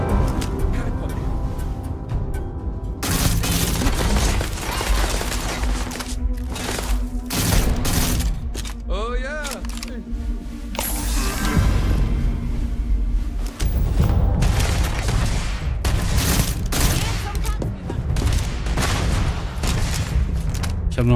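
Rapid bursts of gunfire and heavy grenade explosions in a Starfield space-shooter firefight, loud and dense for the whole stretch, with repeated blasts and overlapping shots.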